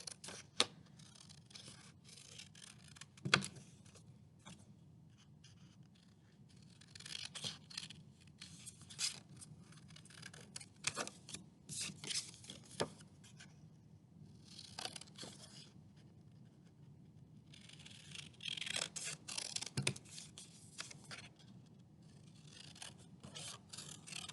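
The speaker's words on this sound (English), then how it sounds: "the next thing we're going to do is cut out the ears. Again, just cut around the lines." Scissors snip and rasp through paper while cutting out puppet ears along drawn lines for a Baby Yoda craft, a quiet, intermittent run of close cuts and rustles with no talking.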